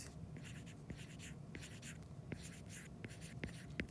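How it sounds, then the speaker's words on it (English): Pencil or pen scratching steadily across paper while drawing sports pictures, a continuous near scraping with short strokes and taps, no talking. "I'm going to write it on the side here"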